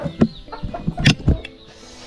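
Farmyard chickens clucking, several short close calls and clucks in quick irregular succession, with soft rustling between them and no talk.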